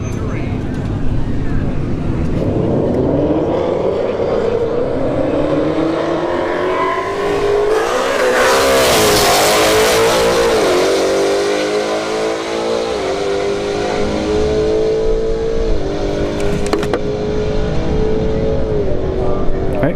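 A Hyundai Elantra N and another car launch side by side down a drag strip at Bradenton Motorsports Park, engines rising to a loud roar mid-run that then fades, with talk over it.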